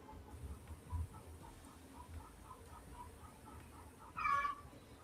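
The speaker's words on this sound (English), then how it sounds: "I got a chicken in the backyard yelling like a maniac." A backyard chicken hen squawks and clucks faintly from a distance in a quiet outdoor setting, with a brief, louder squawk burst near the end.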